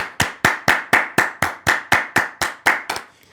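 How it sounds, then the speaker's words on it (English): A dozen sharp, evenly spaced hand claps ring out close and loud in a steady beat, keeping time for a line dance, with the last claps coming slightly quicker before stopping. "Everybody clap your hands"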